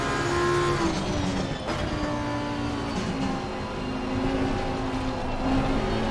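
Race car engine in Assetto Corsa Competizione at Brands Hatch, a steady loud simulated engine drone with shifting harmonic whine throughout, continuous and close, with no talking.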